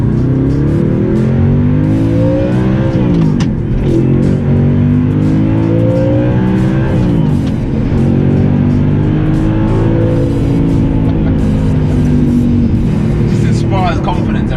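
An Audi R8 V8 fitted with a Milltek exhaust revs loud and close, its engine note rising and falling through repeated sweeps with a rasping edge, steady and sustained throughout.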